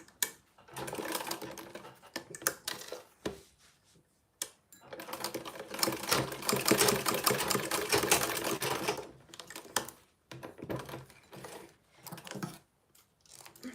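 A sewing machine stitches around a waist bag in short bursts and one longer steady run, its rapid mechanical clatter close and clear, with pauses between runs and no talking.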